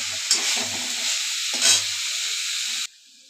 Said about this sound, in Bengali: ভালো করে জলটা কষায় নেব শাকে। একটু এরকম কাদা কাদা করে দেব।